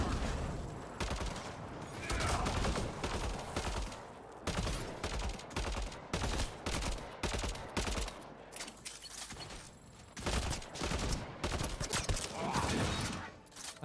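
Rapid bursts of gunfire from a multiplayer video game repeat in quick clusters across the whole stretch, loud and dense, with occasional faint voices beneath.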